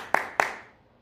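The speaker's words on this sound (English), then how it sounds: "you're going to clap your hand" Two sharp hand claps from a group, about a quarter second apart, ringing briefly in a room and then fading to quiet, with no talking.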